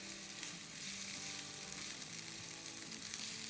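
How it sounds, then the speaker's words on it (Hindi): Chopped onions and garlic paste sauté in a pan with a steady, close hiss and crackle of frying oil, soft stirring under it, and no talking. "चलें इसको सौटे करते हैं।"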